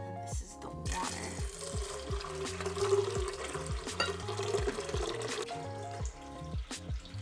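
Water is poured into a Chinese soy milk maker, a soft splashing trickle that runs for several seconds under louder background music with a steady beat.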